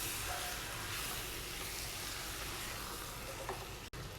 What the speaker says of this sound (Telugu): పల్లి పౌడర్ యాడ్ చేసిన తర్వాత మరొకసారి అంతా కూడా బాగా కలిసేటట్టు మిక్స్ చేసుకోవాలండి